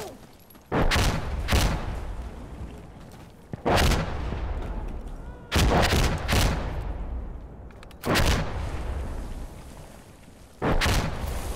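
Heavy mortar blasts in Insurgency Sandstorm land in a repeated barrage, five loud booming impacts spaced a couple of seconds apart, each with a broad crack and a rumbling decay, with no talk over them.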